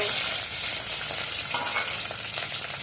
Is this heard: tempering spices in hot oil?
yes